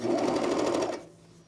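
A sewing machine runs close and loud along a jumpsuit seam in one quick burst of fast rhythmic stitching, about a second long, then winds down and goes quiet.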